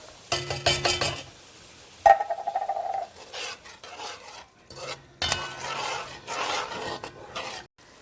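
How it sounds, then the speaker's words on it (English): Canned gandules poured with their liquid into a pot, giving a few clattering knocks and scraping, a short splashing pour and stirring against the pot for Puerto Rican arroz con gandules, close and moderately loud with no talk. "And I dump my gandules, liquid and all."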